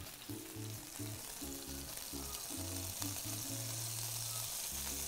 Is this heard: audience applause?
no